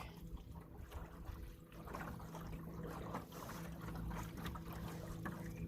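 Small boat running flat out on a battery-powered electric motor along a creek, giving a steady close hum with water rushing against the hull throughout, no voices.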